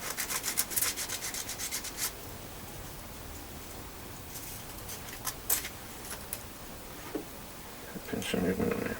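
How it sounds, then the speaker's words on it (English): Sandpaper rubs over a small plastic part from a Trumpeter Titanic model kit, a soft close scratchy hiss in short bursts and longer strokes, steady and quiet, ending with a louder scrape. "Give it a quick sand down."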